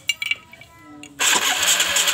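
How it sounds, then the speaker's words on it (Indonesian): A Kawasaki Kaze R motorcycle engine starts up, with a few brief clicks before the motor catches and settles into a loud, steady running roar for the rest of the short clip. "Oke, kita nyalakan mesin."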